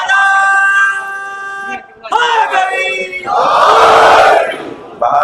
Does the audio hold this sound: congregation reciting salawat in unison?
yes